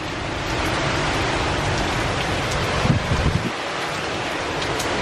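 Strong wind and rain from Hurricane Ian in Orlando, a steady loud roar of gusts and falling rain with a few heavier buffets near the middle, no voices.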